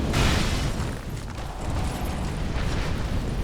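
A shoulder fire explosion attack in Dark Souls 2 erupts with a loud, rumbling boom that sustains as a roaring burst for a few seconds, without speech.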